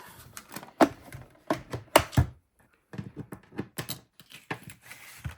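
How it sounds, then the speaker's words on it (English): Crisp clattering from a die cutting and embossing machine cutting out paper craft pieces, heard as close, irregular bursts of clicks with a brief quiet gap midway. "bring in my machine, and we'll just quickly cut those out."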